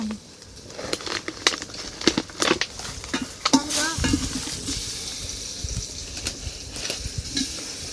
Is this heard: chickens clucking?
no